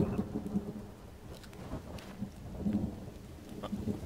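Rain pours steadily in The Forest survival game while low thunder rumbles on and off, filling the whole moment with a dense, continuous wash of sound.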